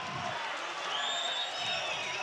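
A crowd at a local football league grand final roars and cheers after a goal, a steady, dense wash of voices with a few higher whoops rising above it throughout.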